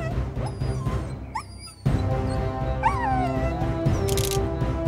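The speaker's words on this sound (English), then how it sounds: "Suddenly, the kids heard Buddy's barking and realized that he was on the farm." A dog yips and whimpers in short bursts with a high whine, over a busy music-like backdrop that gets louder partway through.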